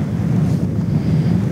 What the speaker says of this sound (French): Mais il y a toujours du vent.